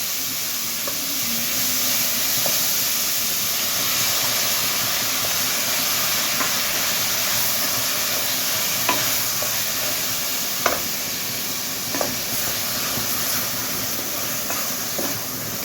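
Masala paste sizzles and fries in a pan for a guar bean and rajma curry, with a steady hiss throughout and occasional scrapes and clicks of a spoon stirring close by.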